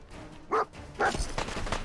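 Dogmeat, the dog companion in Fallout 4 with the Sim Settlements 2 mod, gives two short sharp barks close by amid game sounds and background noise.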